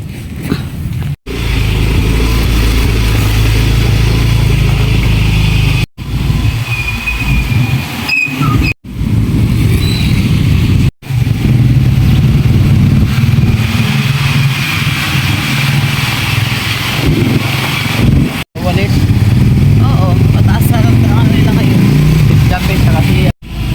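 A motorcycle engine runs steadily and close by, rumbling low throughout, with a few brief cut-outs and faint background sounds.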